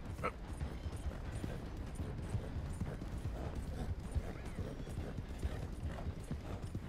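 Steady clip-clop of horse hooves trotting at an even pace in Red Dead Redemption 2, with a faint mechanical whir and ambient game background beneath.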